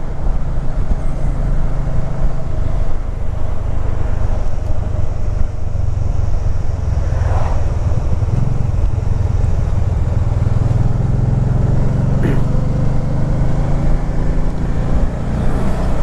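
A 2012 Can-Am Spyder RT-S three-wheeled motorcycle engine drones loudly and continuously while riding, with a low steady growl and wind rush, and a few brief tonal changes as gears shift.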